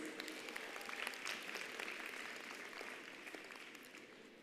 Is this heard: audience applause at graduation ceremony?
yes